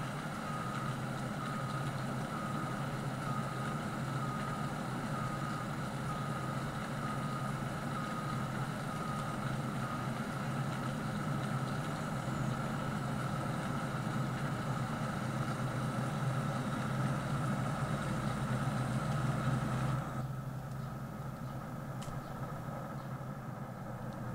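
A vehicle engine in Farming Simulator 19 drones and idles steadily at close range, a continuous low mechanical hum that shifts slightly near the end, with no talking.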